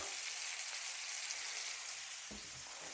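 Beef meatballs for an Algerian-style dish browning in a frying pan, a steady close hiss of sizzling fat with no pauses, with one faint bump near the end.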